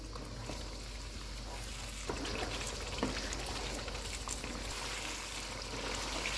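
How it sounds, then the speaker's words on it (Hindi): Meat frying in a karahi over a medium flame, giving a steady, fairly quiet sizzle and bubbling with a few small pops and stirring sounds, and no talk. "चूल्हे को मीडियम कर देते हैं और इसको 2 से 3 मिनट तक भूनेंगे।"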